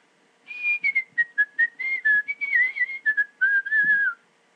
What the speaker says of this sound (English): Let's try here, for example, with a few whistles.